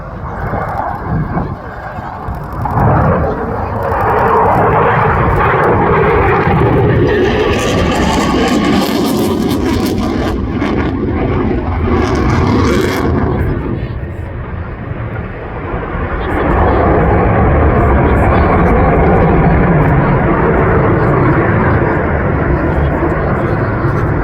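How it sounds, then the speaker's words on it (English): RAF Typhoon fast jet in an airshow flying display, a loud continuous roar that swells and fades as the aircraft pulls round in front of the crowd, with a commentator talking over it. "now Tom's pulling the aircraft round"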